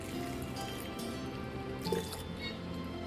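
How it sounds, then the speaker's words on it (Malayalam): Water poured into a pot of sambar during stirring gives soft dripping and liquid squishing sounds over a faint steady background hum, quiet and close, with no talk. "ആവശ്യത്തിനുള്ള വെള്ളമൊക്കെ ചേർത്ത് ഇളക്കിയെടുക്കാം"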